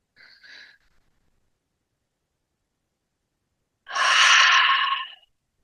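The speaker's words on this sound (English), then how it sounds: "Open your mouth, sigh out, exhale through your mouth." Two audible exhales through the open mouth during a gentle yin yoga session, a short soft breath first, then a longer, louder sighing breath after a pause of silence.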